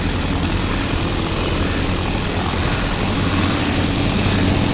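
A propeller plane's engine drones steadily in a flight simulator game, near the Massey Aerodrome in Maryland, a loud continuous roar with no change in pitch and no talking.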